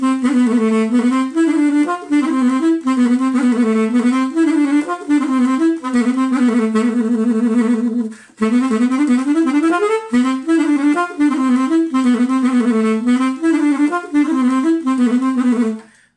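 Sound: instrumental intro of a song played at normal speed

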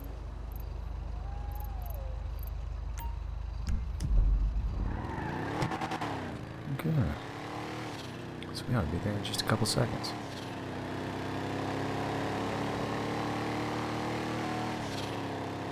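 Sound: car driving in GTA Online video game

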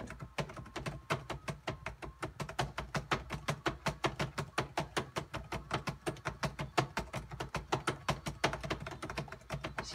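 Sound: computer keyboard keys being pressed while playing a rhythm game

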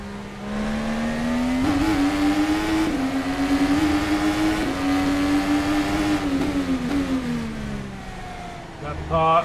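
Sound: IndyCar race car engine at Long Beach, video game

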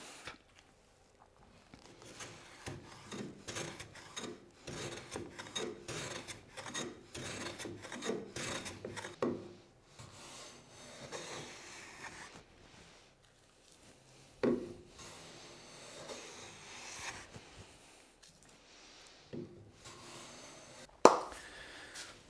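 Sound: hand plane planing wooden pieces for belt rack

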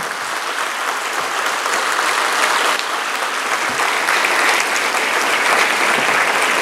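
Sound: audience clapping loudly with raised hands

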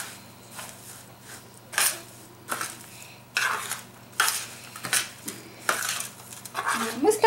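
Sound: spoon stirring granola mix with oats in a bowl

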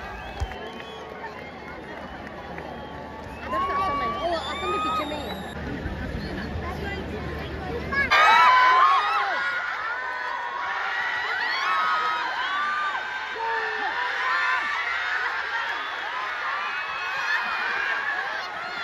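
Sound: large crowd cheering at a Santosh Trophy football match

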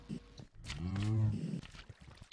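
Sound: cows in Minecraft video game

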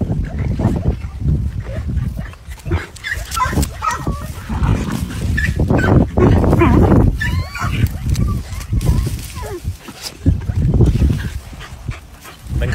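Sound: dog barking and whimpering at a rat hole

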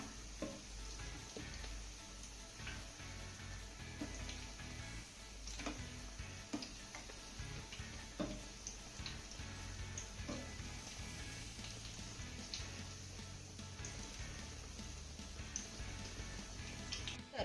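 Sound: vadas frying in oil on low-medium flame

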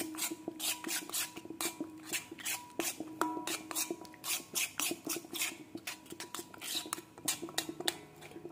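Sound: stirring curd into hair dye mix in iron pan

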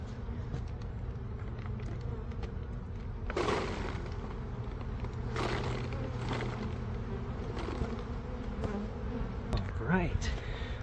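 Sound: bees buzzing during a bee rescue

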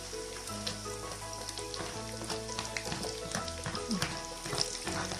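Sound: onion frying in a pan

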